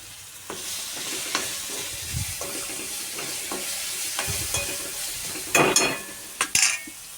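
Tempering of fried chilies and turmeric sizzling in oil in a pan, a steady close hiss with soft stirring taps and a few sharper metal clinks near the end, no talking.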